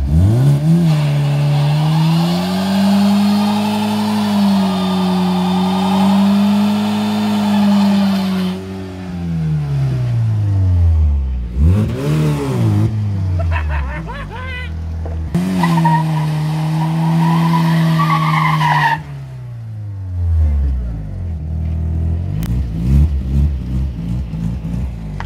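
Volkswagen Caddy car driving on a road, its engine rising and falling in pitch through several long revving passes with loud tyre skids and squeals, close and sustained, no talking.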